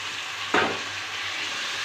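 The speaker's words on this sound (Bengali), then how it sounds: "এবার সব সময় খুব ভালো করে কষিয়ে নেব" Boiled young jackfruit and potato sautéing with prawns in a pan, a steady close sizzle with one brief louder burst of frying as food or a spoon is stirred in.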